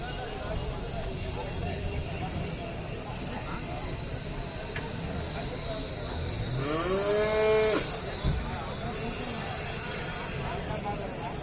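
At a cattle market, a cow gives one clear drawn-out moo midway through, set against steady crowd murmur and voices talking.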